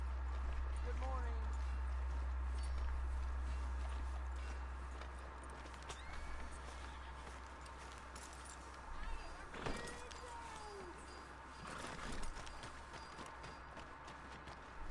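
Horse hooves clip-clopping on a town street in Red Dead Redemption 2, a faint steady patter beneath a low ambient hum, with sparse voices and a few brief louder knocks.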